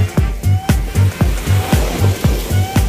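Sea waves washing in at high tide along the Sembawang shore, a steady series of close, loud surges and splashes repeating about every quarter second with no voices.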